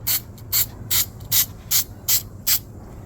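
Seven short hissing bursts of aerosol spray adhesive, evenly spaced about half a second apart, close and crisp, with a faint low hum underneath.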